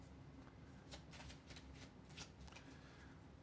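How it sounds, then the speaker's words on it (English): A deck of borderless playing cards being shuffled by hand for a solo card game, a soft run of rapid riffling flutters and papery slaps, quiet and close with no talking. "Let's shuffle these."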